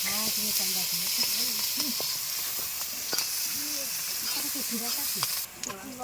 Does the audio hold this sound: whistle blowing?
no